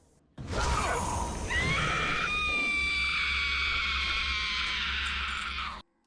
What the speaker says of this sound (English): this boss here, she has the most amazing scream ever